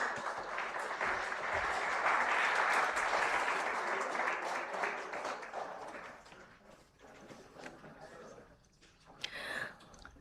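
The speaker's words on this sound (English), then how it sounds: "A big round of applause for our panelists for this engaging discussion." Conference audience gives panelists a round of applause, loud dense clapping that fades after several seconds into scattered claps and room noise.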